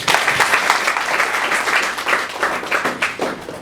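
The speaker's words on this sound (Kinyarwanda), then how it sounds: "Dukomere Imana amashyi" An audience applauds at a certificate ceremony in Burundi, a dense, steady wash of many hands clapping close by for the whole stretch, with a few louder bursts near the end.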